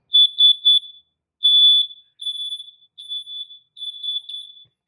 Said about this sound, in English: it'll make that very traditional smoke alarm sound to go off